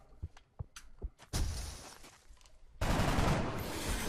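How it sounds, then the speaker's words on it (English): Gunfire in the video game XCOM: Enemy Unknown: a few faint clicks and taps lead into a loud burst of shots, then a second, sharper blast with a sustained roar that stays loud to the end. "Meanwhile, Hunter is going to take this shot"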